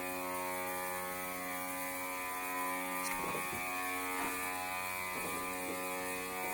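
An Oreck Orbiter floor machine fitted with a Challenger bonnet scrubs carpet in a 1970s mobile home, giving off a steady, continuous whirring motor hum that runs throughout at moderate level.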